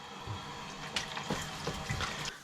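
Water runs steadily from a tap while Every Man Jack beard and face wash is rinsed out of a beard, a continuous close splashing with a few brief louder gushes.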